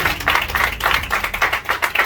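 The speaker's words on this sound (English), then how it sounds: "Round of applause again." Audience applause at a community house-handover ceremony, a brisk burst of many hands clapping loudly and continuously for a couple of seconds with no talk over it.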